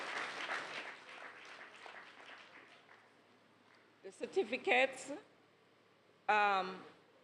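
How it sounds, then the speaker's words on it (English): A graduation ceremony audience applauds secondary school graduates, with clapping fading away over the first few seconds before brief voices and other sounds follow. "Please give them a round of applause"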